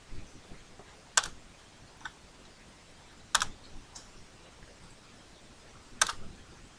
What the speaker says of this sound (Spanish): Todo teclado, recuerda que no hay mouse, Alexis, a puro tabulador